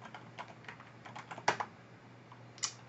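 Commands are typed on a computer keyboard for network router configuration: quiet, irregular key clicks with a few sharper, louder taps, close up and without speech.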